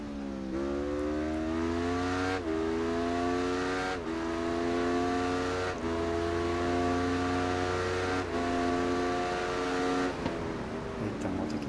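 A racing motorcycle in the video game Ride 3 screams at high revs, its engine pitch rising and then dropping sharply at each of several quick gear changes, loud, steady and continuous with no voices.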